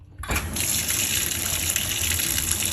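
Water gushing from a tap to rinse orange hair dye out, a loud continuous rush starting abruptly and running steadily, close by, with no talking.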